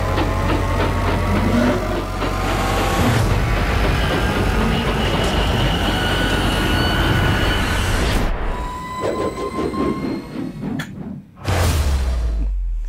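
Subway train from a horror film rumbling along the tracks with a steady low roar and whooshing air, the noise thinning and breaking up near the end before a final surge.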